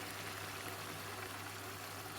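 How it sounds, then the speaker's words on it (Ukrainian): Hot boiled water poured into a pan over flour and vegetables in a home kitchen, a steady, faint broadband trickle and splash running throughout without pause. "Добавляю гарячу кипячену воду"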